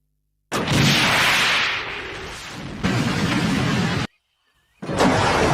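A loud explosive roar bursts in and rumbles for several seconds, cuts off abruptly, then another blast of rumbling noise follows after a brief silence.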